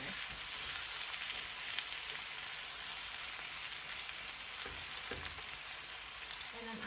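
Cabbage fries Southern style in a pan with a steady, close, even sizzle that holds throughout, with a few faint stirring knocks and no talk.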